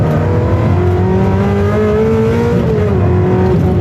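A Ferrari 360 engine accelerating and shifting on an open road, a loud, steady drone heard from inside the car whose pitch climbs smoothly and then drops at a gear change.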